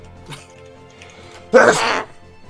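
A single sharp sneeze bursts out close by, loud and breathy, after a brief quieter catch of breath.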